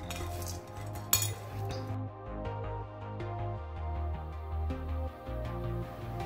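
Fried omapodi and karaboondi snacks tossed together in a metal vessel, giving a steady run of light clinks and crisp rattles up close, with no talk.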